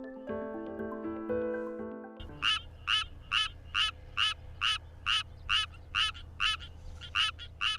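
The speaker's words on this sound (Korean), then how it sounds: "느리고 높은 소리로 노래하는 수원 청개구리에 비해" A Suwon tree frog calls in a steady series of short, high, evenly spaced croaks, close and clear, following a brief stretch of music.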